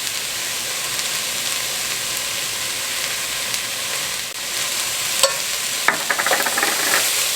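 Garlic going into vegetables already sautéing in a chili pan gives a steady close sizzle and hiss, with a few scraping stirs near the end.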